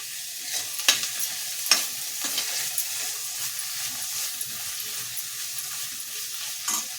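Vegetables such as green peas and field beans stirred into a frying pan of saagu, with a steady sizzle and a few sharp scraping clinks of the spoon, close and fairly loud, no speech.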